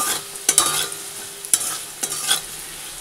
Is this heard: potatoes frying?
yes